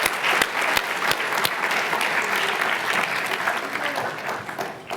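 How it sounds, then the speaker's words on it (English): A round of applause for instructors at a university speech night competition, a steady crowd clapping at moderate distance with a few sharp individual claps early on, slowly tapering off. "Can we have a round of applause for your"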